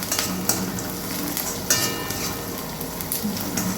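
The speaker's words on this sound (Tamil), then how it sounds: "இதை வதங்கட்டும். இன்னும் கொஞ்சம் லைட்டாக வதங்கணும்." Cabbage and egg sautéing in a pan, a dense steady sizzle with occasional spatula scrapes and clinks against the pan, close and continuous with no one talking.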